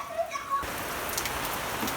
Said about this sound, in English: It's starting to rain sideways.